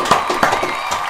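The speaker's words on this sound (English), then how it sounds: "let's get a round of applause for Kai as well." Audience applause and cheering for a guest on an interview show: a short burst of dense clapping with whoops, close and fairly loud.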